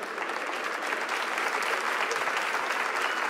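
Congregation applauding during a church sermon, continuous dense clapping from a crowd filling the room at steady volume without speech.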